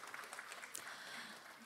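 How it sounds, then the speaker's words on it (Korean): An audience at the Democratic Party's 70th anniversary ceremony claps for former President Moon Jae-in, a dense, continuous wash of applause from a large crowd, fairly faint and distant. "문재인 전 대통령님께 큰 박수 부탁드립니다"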